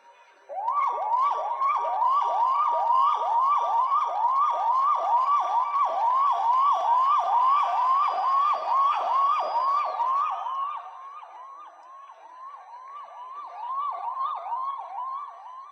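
A voice imitates a 108 ambulance siren, a rapid rising-and-falling wail repeated in quick regular cycles, loud and close, easing off in volume for a stretch before swelling again near the end.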